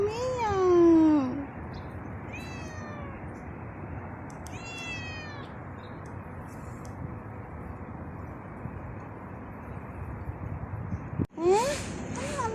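A stray kitten meows repeatedly, several rising and falling cries spaced across the stretch, close and clear over a steady background rumble, with a louder meow near the end.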